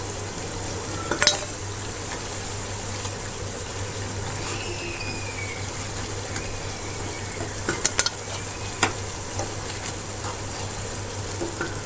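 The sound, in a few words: frying and stirring in a pan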